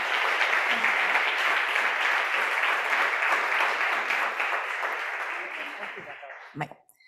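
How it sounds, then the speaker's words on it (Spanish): Loud, sustained audience applause at a gastronomy round-table talk, welcoming the speaker Claudia Polo of Soul in the Kitchen; steady dense clapping for about six seconds that fades out at the end. "le vamos a dar un fuerte aplauso a Claudia"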